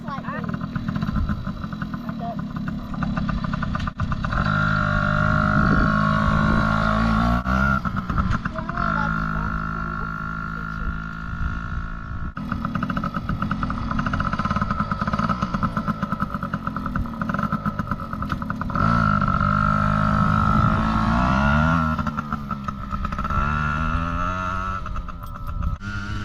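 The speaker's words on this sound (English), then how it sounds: "I'll do 2 laps" Motorcycle engine running steadily through laps, a mid-pitched hum and clatter that rises and falls continuously, with people talking over it throughout.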